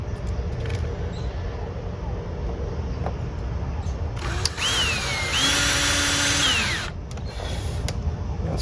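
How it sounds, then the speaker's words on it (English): Power drill driving small screws into sun shade brackets, with a steady whirring burst of about two seconds rising and falling in pitch near the middle, set against a background hum. "We just need these small screws in there."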